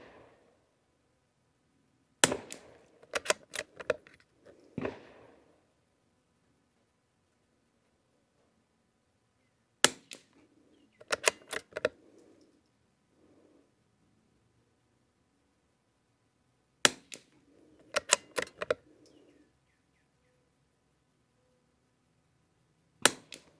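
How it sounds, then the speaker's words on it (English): Suppressed .22 rifle shots from a Lithgow LA101 fitted with a Gemtech suppressor, firing Lapua CenterX ammunition: three close, sharp bursts of rapid cracks separated by quiet pauses, each followed by faint mechanical clatter. "this thing is shooting pretty nice with this suppressor today"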